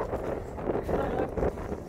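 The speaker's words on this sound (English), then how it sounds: "Oh, it's windy, sorry guys." Wind buffeting a microphone outdoors beside a river: low, rumbling gusts that swell and fade irregularly, loud and close, with no clear speech over it.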